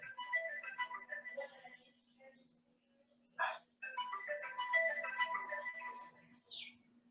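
A mobile phone ringtone plays during an online class, a bright electronic melody that rings in repeated phrases, pauses briefly, then resumes, fairly near with no voices over it.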